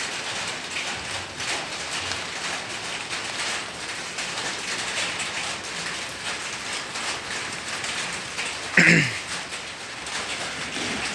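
Light drizzle falls outdoors in Indonesia as a soft, steady patter throughout, with one brief louder clatter near the end and no one speaking.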